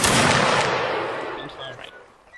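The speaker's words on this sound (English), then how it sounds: "you're gonna get shot by a cannon" Cannon fire in a Mount and Blade line battle: a loud booming blast at the start whose rumble decays over two seconds, with faint game noise beneath.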